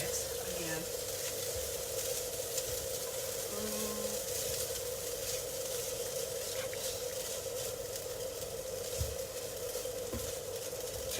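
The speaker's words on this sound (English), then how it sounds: "the rice is now in, and I'm going to stir fry it again" Rice stir fries in a hot pan with a constant, moderately loud sizzle and hiss running throughout, joined by occasional soft scrapes and stirring knocks, close up with no pauses.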